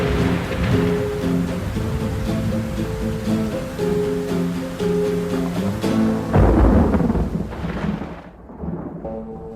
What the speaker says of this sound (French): Mais voilà que la pluie arrive.